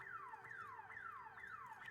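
An alarm in Redfall sounds as a repeating electronic wail. Each tone sweeps downward in pitch and then resets, cycling steadily about twice a second at moderate loudness.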